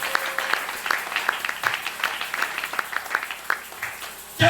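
A congregation at a Sunday church service applauds together, filling the room with dense, sustained clapping that holds steady for several seconds before cutting off abruptly.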